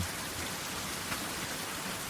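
Steady rain falls at night, a dense, even hiss of drops that holds at a constant moderate level with no voices.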